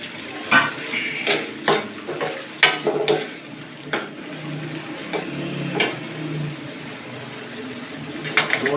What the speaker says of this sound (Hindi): जो पोटा कलेजी हमने पहले से फ्राई किया हुआ था वो अब इसमें डाल देंगे